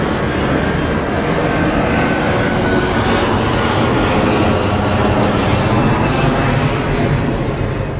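A low-flying airplane passes overhead near a hotel in Ibiza, a loud, steady broadband engine roar that fills the whole stretch without letting up.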